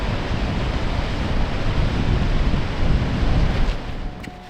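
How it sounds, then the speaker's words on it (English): Powerful ocean waves crash continuously against a rugged coastline, a loud roaring surf mixed with wind buffeting the microphone, easing off in the final moment. "The camera does not do justice to the power of these waves."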